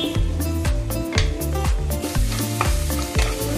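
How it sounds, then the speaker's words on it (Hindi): Onions frying for chicken biryani crackle with a dense, close sizzle while a spoon stirs them, scraping the pan in repeated strokes. No one speaks. "अब डालते हैं प्याज और इसे अच्छे से कर लेते हैं फ्राई"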